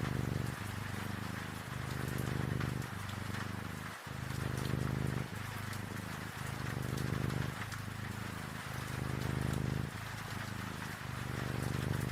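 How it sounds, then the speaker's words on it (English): Steady rain patters against a window in a continuous, even wash of sound with a gentle pulsing rhythm, moderately quiet and with no voices. "The sound mingles with the steady rhythm of rain upon the window"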